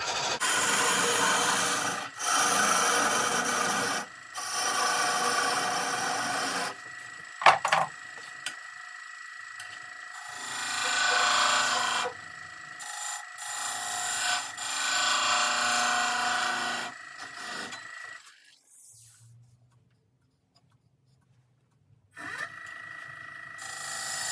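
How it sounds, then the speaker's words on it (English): Sanding a handmade wooden biscuit cutter to remove tool marks: long stretches of loud, abrasive rubbing in repeated strokes, broken by short pauses and a near-silent gap before the sanding resumes, with no talking. "And a few little tool marks I need to sand out."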